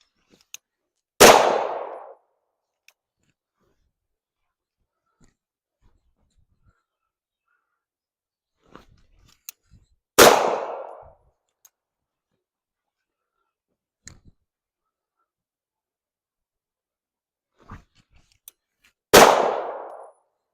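Three loud, sharp gunshots from a shooting drill, each spaced several seconds apart with short ringing decays and faint clicks of handling in between, no talk.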